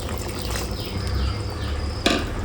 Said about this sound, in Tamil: லைட்டாக தேவைக்கான தண்ணி ஊற்றிக்கலாம்.